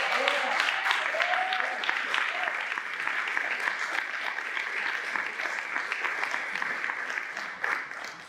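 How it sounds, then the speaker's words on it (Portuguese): A church congregation applauds God in steady, moderately loud clapping that continues throughout, with a faint voice early on. "Você pode aplaudir a Deus por isso?"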